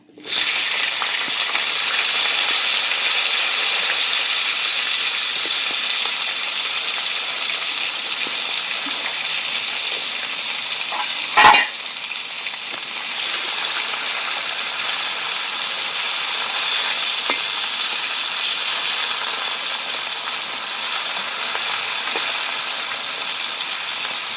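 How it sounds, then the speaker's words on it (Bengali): Cut vegetable stems and eggplant fry together in hot oil for shukto, giving a loud, steady, close sizzle that holds evenly throughout, broken once by a single sharp clack partway through. "কেটে রাখা ডাঁটা আর বেগুন একই সাথে ভেজে নেব।"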